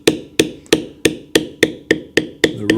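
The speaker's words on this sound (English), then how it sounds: "I put the long end into the cut and tap it with my mallet." Mallet tapping a steel leather-carving tool set into a cut in leather, nine sharp, evenly spaced knocks close up, each with a brief ringing decay.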